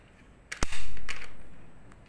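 A toy sniper rifle fires once, a sharp, close crack followed by a brief ringing tail and a faint mechanical click afterward, with no talking.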